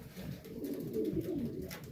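Racing pigeons coo steadily and close by, with soft overlapping throaty coos that run through the whole stretch and no voices over them.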